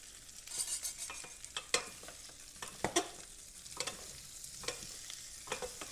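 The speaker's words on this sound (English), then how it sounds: "Stir them and mix them all together so they can get the good smell from the garlic." Vegan rolls stirred with garlic in a hot pan, a utensil scraping and clinking at uneven intervals over a steady sizzle, no talking.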